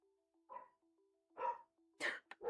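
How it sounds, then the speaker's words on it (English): A dog barks a few times in the distance, in quiet, irregular bursts over a faint background hum. "I do apologize about my dog in the background."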